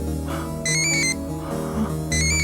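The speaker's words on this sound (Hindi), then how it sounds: "यहाँ किसी फोन की आवाज आ रही है।" A mobile phone rings in an alley with a repeating electronic ringtone: bright, clear bursts of high tones that pause briefly and return, heard alone over a low background hum.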